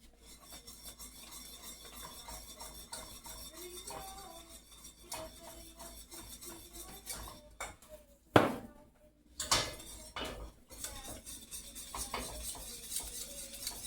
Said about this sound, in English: We're going to whisk that into our bechamel.